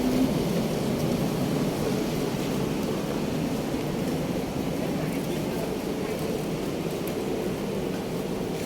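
Steady broadband rain-like hiss and rumble fills the scene continuously, fairly loud, with a faint voice or two under it.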